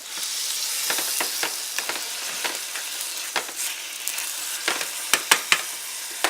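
Bison roast drippings with vegetable juices sizzle steadily in a roasting pan while a utensil scrapes the bottom, several sharp scratching strokes standing out near and loud over the continuous hiss, with no talking.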